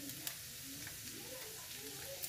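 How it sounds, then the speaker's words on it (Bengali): Garlic crackles as it is tempered in hot oil for chicken khichuri, a steady close sizzle with faint pops running through the short stretch and no voices. "রসুন ফোড়ন দিয়েছি"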